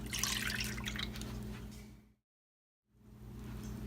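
A steady liquid trickle as 1.5 cups of milk are poured into a pan on a stove, running for about two seconds, cutting off briefly, then resuming, close and fairly quiet.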